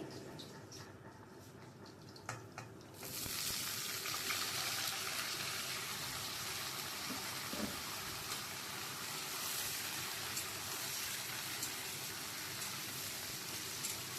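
Water lily stalks dropped into a pan of hot oil with garlic and chilli, a sudden steady hiss of frying that keeps sizzling evenly, close by with no talk.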